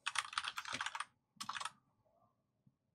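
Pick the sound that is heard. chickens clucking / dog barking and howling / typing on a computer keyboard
typing on a computer keyboard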